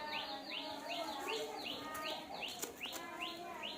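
Ducks call nearby in quick repeated peeping notes, each one sliding downward, in a steady string of chirps with faint voices in the background.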